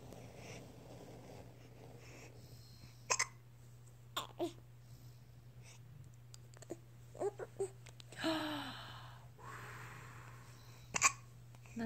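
Baby hiccups, several sharp, separate hics spaced a few seconds apart, close and fairly clear over a quiet room hum, with faint fussy breathing between them.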